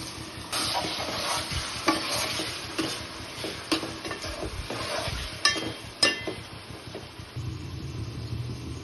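Chopped tomatoes sizzling in a pan of prawn curry, a steady frying hiss broken by repeated scraping clinks of the spoon as they are stirred, close and moderately loud.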